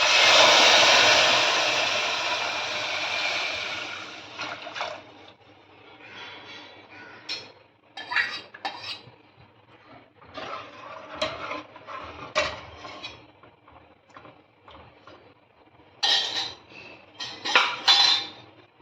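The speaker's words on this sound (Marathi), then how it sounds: "दूध टाकायचं शेवयाच्या खीरमध्ये" Milk pours into vermicelli kheer in a pan with a steady rushing splash, followed by a ladle stirring and clattering against the metal in uneven bursts.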